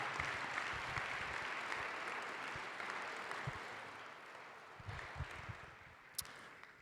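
Steady applause from an audience, a dense wash of clapping that holds for several seconds and slowly fades, with a few louder claps near the end.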